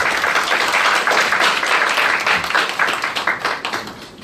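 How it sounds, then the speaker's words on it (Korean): A seated audience at a venture startup forum gives dense, sustained applause to welcome a speaker, loud and even before thinning out slightly at the end. "힘찬 박수로 맞이 부탁드립니다."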